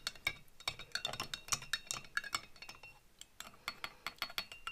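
Metal spoon clinking repeatedly against a container as US MRE drink mix is stirred into water, a quick irregular series of bright taps and scrapes, close and fairly quiet with no talking.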